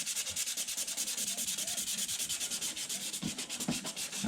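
Fine 320-grit sandpaper is rubbed back and forth over body filler in a quick, even rhythm of close, soft, rasping strokes, with no voices.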